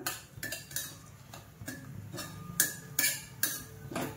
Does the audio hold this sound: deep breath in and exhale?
no